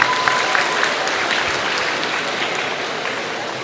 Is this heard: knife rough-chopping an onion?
no